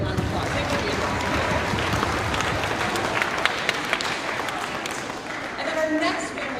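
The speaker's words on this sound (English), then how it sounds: "let's give him a round of applause" A school spring concert audience gives a round of applause, with dense clapping filling the space. Voices are heard under the clapping and come through more clearly as it trails off.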